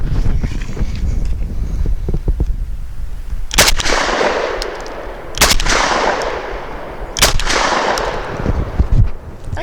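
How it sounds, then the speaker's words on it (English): A Citadel RS-S1 shotgun fires Fiocchi Shooting Dynamics 1 1/8 oz 7.5 shot target loads outdoors, giving three loud, sharp blasts a couple of seconds apart, each trailing a long rumbling echo, over wind noise. "I'm going to start off with the Fiocchi Shooting Dynamics target load"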